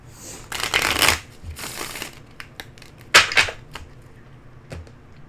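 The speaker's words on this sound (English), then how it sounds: "Okay, one more shuffle here." Tarot cards are shuffled in a few quick riffling bursts, crisp and close, followed by lighter taps and slides of cards being handled.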